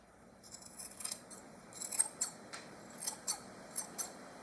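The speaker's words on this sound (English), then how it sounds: "I can trim those threads along with all the rest of them at the bottom" Sharp scissors trim the loose threads at the bottom of a tassel. A series of crisp, close snips comes in an uneven rhythm, with no talking.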